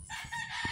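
Chickens clucking and a rooster crowing close by, a steady busy stretch of farmyard fowl calls with a short low thump near the end.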